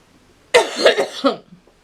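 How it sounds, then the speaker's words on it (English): An elderly woman gives a chesty cough, a close burst of several rough coughs in quick succession, with no talk over it. "I've got chesty cough."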